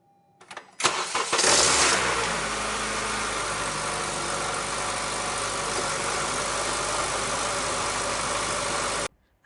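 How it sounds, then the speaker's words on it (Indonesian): A car engine cranks briefly with a few rough turns, catches with a loud surge, then settles into a steady, even idle that drones on for several seconds close by before cutting off. "Father starts the car again"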